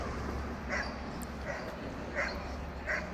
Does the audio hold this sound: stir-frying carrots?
no